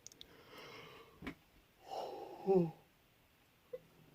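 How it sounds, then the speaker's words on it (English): A person yawns and stretches, a drawn-out breathy, voiced exhalation swelling to a peak near the end, with a short sniff-like catch earlier and a faint click afterward, close and fairly quiet with no words spoken. "I had to yawn there and stretch out a bit"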